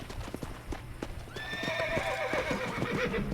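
Horse hooves in the video game Red Dead Redemption on Xbox 360: steady close clip-clop footfalls, then a horse neighs loudly over them, with faint talk in the background.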